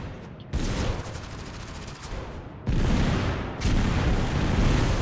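Scar H rifle fire in Totally Accurate Battlegrounds: dense, loud bursts of rapid shots in rolling volleys, stopping briefly and then resuming harder with heavy booming impacts.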